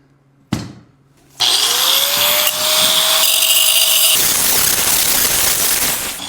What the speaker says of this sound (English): we're just going to grind it down a little bit and get it welded to it